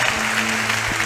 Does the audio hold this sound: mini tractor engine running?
no